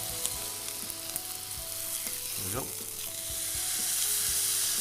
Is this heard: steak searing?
yes